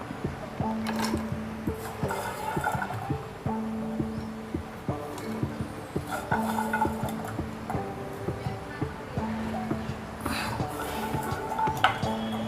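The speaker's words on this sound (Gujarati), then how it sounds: "હવે આપણે કરમદા નાખી દેવાના." Karonda berries dropped into a glass jar with ice while making pickle, repeated clinks, rattles and knocks of berries and ice against glass, close and fairly busy.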